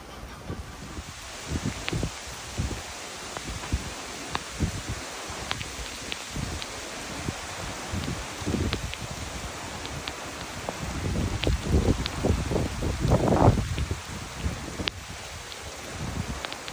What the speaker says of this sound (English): one of the rain bands just came in, and you can see how windy it's picking up